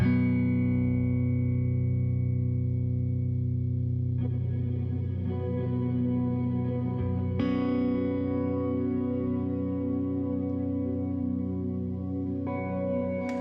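An electric guitar runs through a pedalboard of effects, sustained chords washed in reverb and pitch-shifted shimmer, changing character in a few stages over a slow, smooth swell with no talking.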